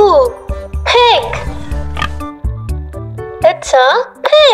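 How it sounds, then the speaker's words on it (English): A pig oinks in a few short grunts over a busy musical backing, with a voice chiming in between. "It's a pig."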